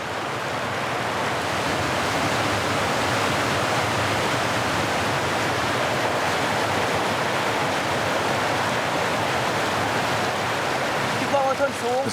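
Roaring rapids of the Mekong River at Khone Falls, a steady, dense rush of churning water filling the whole stretch, loud and close, with a few faint higher tones near the end.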